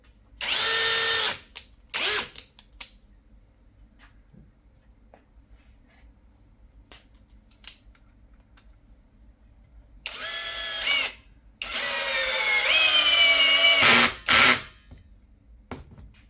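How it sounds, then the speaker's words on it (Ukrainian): A ProCraft PA18LiBL brushless cordless drill, run in impact mode, drives 4 mm by 10 cm screws in loud whirring bursts, with a short burst at the start and a longer strained run near the end, separated by quiet pauses. "Для цього шуруповерта саморізи товщиною 4 мм, довжиною 10 см не проблема."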